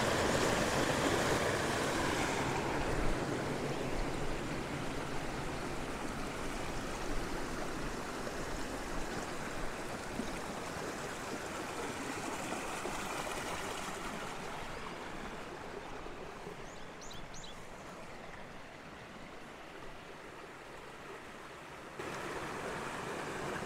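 A mountain creek crossed by stepping stones, its water rushing steadily in a broad, continuous wash that holds close and loud throughout with no voices.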